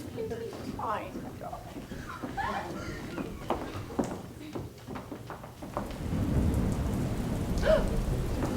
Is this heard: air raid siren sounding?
no